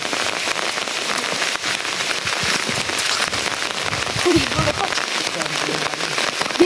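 Rain falling on a village hill path in the rainy season, a steady close patter of drops hitting the ground and surfaces, continuous throughout.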